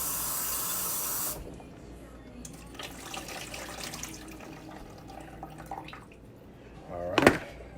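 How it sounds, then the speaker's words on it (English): Tap water runs over a mushroom being rinsed at a kitchen sink, a steady splashing hiss at first, then quieter handling noises and a short loud burst near the end. "let's rinse off the mushroom"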